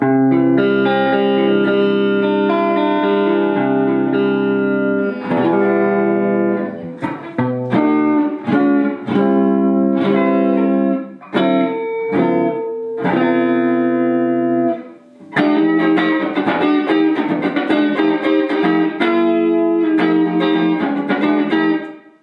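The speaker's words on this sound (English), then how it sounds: "the amp now sounds good with all guitars" An electric guitar plays through a warm, modified tube amp, sustained chords followed by picked notes and choppy strummed passages, loud and alone with no talking.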